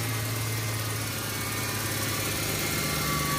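A car engine idles steadily, a constant close rumble with a faint tick and no misfire, alone without talk.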